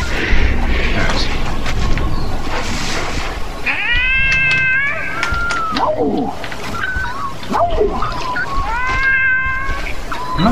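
A kitten meows repeatedly in the video game Shelter 2, with several rising and falling cries over a rustling, noisy game background and some talk mixed in.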